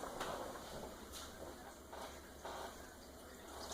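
Water is poured into a dye pot for fabric. A soft, steady splashing fill runs throughout, with a few brief louder gushes. It is quiet and close.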